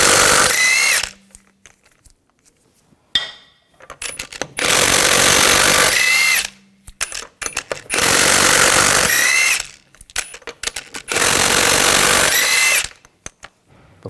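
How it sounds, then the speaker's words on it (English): Impact gun spinning 19mm lug bolts off the front wheel of a 2000–2006 BMW X5: four loud, close bursts of about two seconds each, separated by short pauses with faint clinks and handling noises, and no one speaking. "take these lug bolts out."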